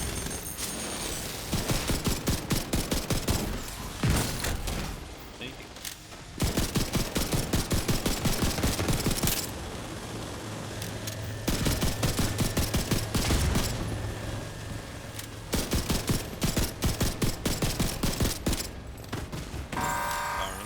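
Rapid automatic gunfire in The Division 2 comes in long, dense bursts separated by short gaps, loud and close, with a low steady hum running underneath.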